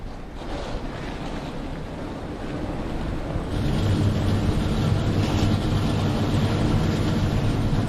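ARCA Menards Series race car engines roar to life together at Toledo Speedway, a dense, steady rumble of several engines that swells louder about halfway through and holds, with no talk over it.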